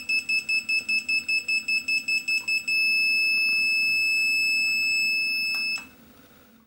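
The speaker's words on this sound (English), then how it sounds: "When 10 seconds are left, the buzzer will beep slowly, and the backlight will flash slowly." The alarm buzzer of an Elitech LMC-300L electronic refrigerant recovery scale beeps in a quick, steady series of short high tones, then holds one continuous tone before cutting off.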